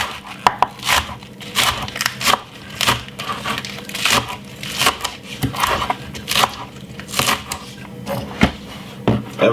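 A knife chops spring onions on a board, with repeated sharp close taps in an uneven, brisk rhythm over a soft background hiss and no talking.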